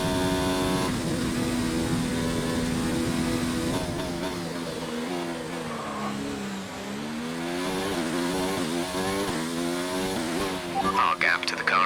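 A 2017 Formula 1-style racing car with hot-lap ERS deployment screams through revs close by, pitch climbing and dropping through gear changes, while a voice talks over it almost the whole time.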